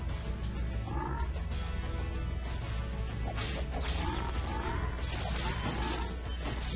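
Frog enemies croak amid dense Spyro video game sounds, with steady background music and occasional crashes and thwacks throughout.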